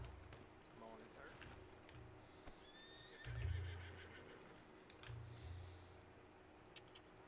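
A horse in a video game whinnies twice, moderately loud, over low rumbling ambience with faint metallic jingling and a person talking.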